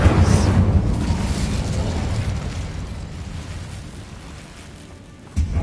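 An Incendio fire spell is cast in Hogwarts Legacy on PS5, giving a loud, deep, rumbling roar that swells at once and slowly dies away over several seconds, ending in a brief thump.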